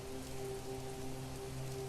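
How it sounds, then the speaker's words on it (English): Heavy rain pours down in the survival video game Planet Crafter, a soft, even hiss of drops with a few steady tones running underneath, faint and continuous throughout. "That's a heavy rain, too."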